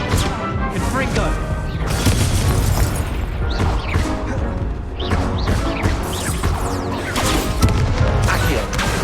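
Confringo fire-blast spell exploding during Hogwarts Legacy video game combat: repeated loud booms, crashes and thuds packed into dense, continuous battle noise with scattered sharp pops.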